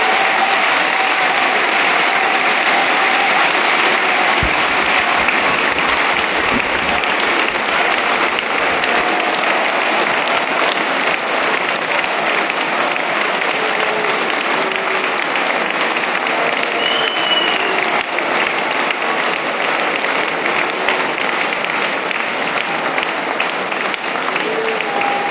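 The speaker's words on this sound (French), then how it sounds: "je vous demande d'accueillir très chaleureusement, avec des applaudissements nourris, Valérie Pécresse" Sustained, dense applause from a large audience welcoming Valérie Pécresse at a Les Républicains national council, loud and steady for about twenty-five seconds without letting up.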